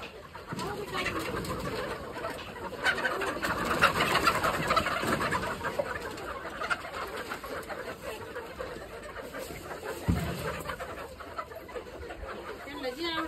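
Chickens feeding on grass cluck and coo softly, with bird calls scattered across a busy outdoor scene and voices talking at times.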